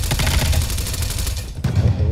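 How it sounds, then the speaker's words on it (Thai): Rapid bursts of gunfire crackle through a dense, noisy mix in Call of Duty: Black Ops Cold War, with a sharper shot cracking near the end, like a busy firefight. "ได้ยินเสียงปืน"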